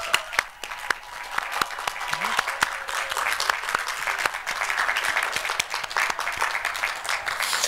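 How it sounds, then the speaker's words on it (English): Audience applause for graduates at a school completion ceremony at Archway Academy, a steady wash of many hands clapping that holds for several seconds, with scattered sharper individual claps and a faint voice or two underneath. "let's give a round of applause for all of our graduates"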